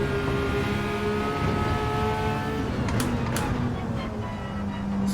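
An Audi RS5 Turbo DTM race car in Assetto Corsa drones steadily with a sustained engine tone, and a brief shift-like change occurs midway. Loud and continuous, with no talk over it.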